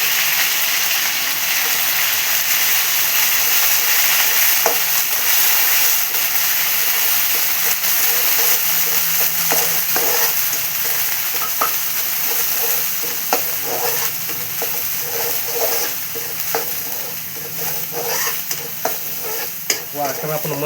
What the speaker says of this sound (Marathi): आता तेल घातले लगेच आपण यात वाटण घालू